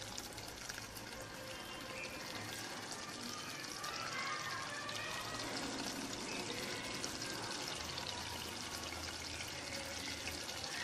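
Water pouring into a pot of mutton kofta curry in a home kitchen, a faint continuous splashing trickle with a soft hiss lasting throughout.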